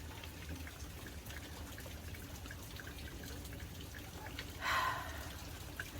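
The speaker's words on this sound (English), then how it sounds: "Here's a beautiful shower." Faint steady dripping and trickling of rainwater running off gutters, with a brief louder splash near the end, no voices.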